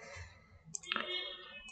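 A single mouse click sounds as a Google Forms send button is pressed, a brief sharp tick followed by a faint soft electronic tone, quiet and close.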